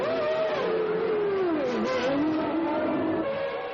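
A 1997 Formula 1 car rejoins the track after a pit stop, its high engine note sustained and loud throughout, pitch sliding down and then holding steady as it pulls away under continuous engine noise.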